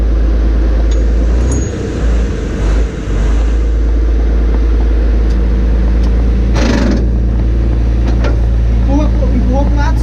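M4 Sherman tank engine running loud and close with a deep, steady low rumble and a strong hum that grow slightly rougher as it revs, with a few clanks and people talking over it.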